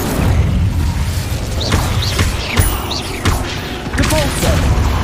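The Incendio fire spell in Hogwarts Legacy, cast inside a cave during combat, bursts out in a string of whooshing booms and crashes over a dense, rumbling game soundscape.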